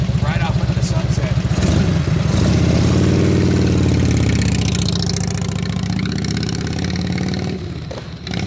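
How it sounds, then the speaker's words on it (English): A 1998 Harley-Davidson FLHTC with an Evolution engine, idling with a loud, close, lumpy rumble that swells slightly and then settles. Someone talks over it. "this is a tried and true Evolution engine"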